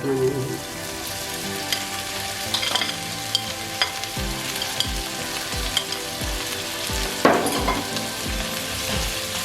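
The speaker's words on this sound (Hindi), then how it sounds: "इसी स्टेज में इसमें डाल देंगे 3 अदद बारीक कटे हुए टमाटर" Finely chopped tomatoes hit a golden-fried onion, garlic and ginger paste in a hot pan for arvi masala, giving a steady close sizzle with repeated scraping stirs and clinks of a spoon throughout.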